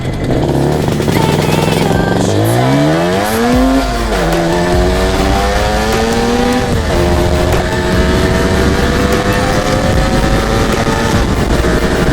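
An IZh Jupiter 400cc twin-carburettor motorcycle engine revs loud and close, its pitch climbing steeply and then holding at a high, steady drone.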